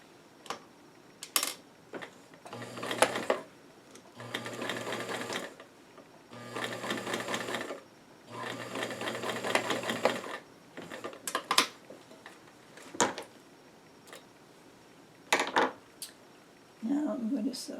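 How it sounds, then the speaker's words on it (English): A sewing machine top-stitches the back of doll-sized jeans in four short bursts of rapid stitching, separated by pauses filled with clicks and handling of fabric and machine. "Okay, now I gotta do this other top stitching on the back."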